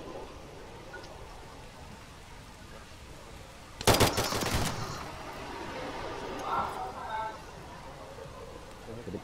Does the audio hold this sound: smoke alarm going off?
no